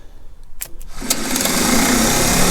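An old starter motor on a 1948 McCormick-Deering W-4 tractor, fed jumped power, starts after a few clicks and spins with a loud, steady whirring drone that continues to the end.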